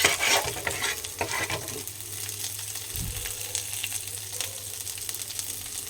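Spice masala stirred and fried in a pan, with a steady close sizzle broken by scraping stirring strokes, heaviest in the opening two seconds and then settling into a continuous fry.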